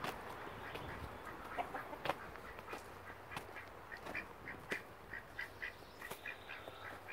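A duck quacks in short, scattered bursts on a farm homestead, faint and somewhat distant over a soft outdoor background, with no talking.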